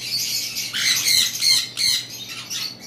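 Pet birds, apparently parrots, give several harsh, close squawks in quick irregular bursts, each shrill and loud against a quiet background.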